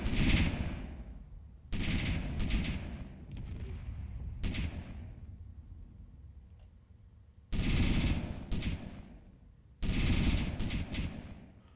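Rapid automatic cannon fire from anti-aircraft turret batteries shooting down torpedoes in the space game Space Engineers, coming in loud, dense bursts separated by quieter stretches of lingering rumble.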